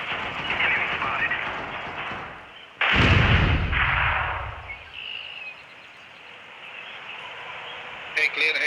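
A grenade goes off in the Critical Strike video game with a sudden heavy boom partway through. Gunfire and game noise continue around it, and a quieter clatter follows.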